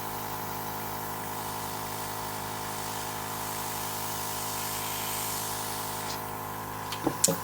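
A Dinair makeup airbrush hisses steadily and continuously at close range, spraying eyeshadow, with a couple of soft knocks right at the end.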